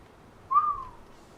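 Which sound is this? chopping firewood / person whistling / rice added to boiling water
person whistling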